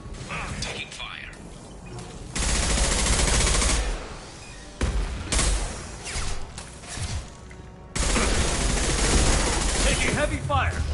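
Heavy gunfire erupts in the sci-fi shooter game Mass Effect 2: loud sustained automatic bursts alternate with shorter volleys and mechanical clatter, while voices speak over the combat.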